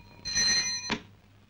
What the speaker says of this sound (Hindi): शोभा का फोन है।